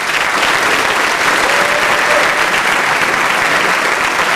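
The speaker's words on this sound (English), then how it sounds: "Please give this special group of seniors a round of applause." Graduation audience at the 2015 Edgren High School commencement gives a round of applause for a group of seniors: steady, dense clapping from a large crowd, loud and sustained throughout without a break.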